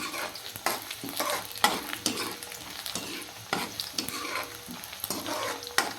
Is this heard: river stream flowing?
no